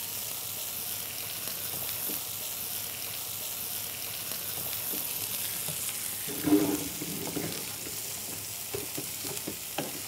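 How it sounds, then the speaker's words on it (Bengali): Chicken fries in a spice paste for a green-coconut chicken dish, giving a steady, quiet sizzle with occasional scraping stirs, heard close and alone. "আর এখন আমি হচ্ছে এখানে চিকেনটা দিব,"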